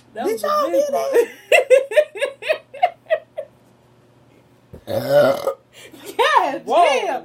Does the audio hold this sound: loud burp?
yes